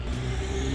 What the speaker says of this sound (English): Loud truck in the background.